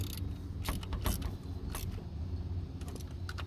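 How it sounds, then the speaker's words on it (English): A hand ratchet clicks as bolts are tightened on the shift actuator of a 2014 Ford Focus, producing close, irregular bursts of metallic ratcheting with brief pauses, no talking. "So I'm going to grab the ratchet here. And we're going to tighten these up."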